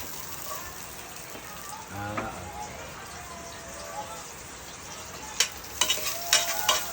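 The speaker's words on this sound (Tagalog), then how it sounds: "So pag naglagay natin ng bawang, ilalagay na rin natin yung luya para sabay sila mag-saute" Garlic sautés in a frying pan while a spatula stirs it, giving a soft, steady sizzle with faint scraping and a few sharper clinks toward the end, while a voice talks briefly.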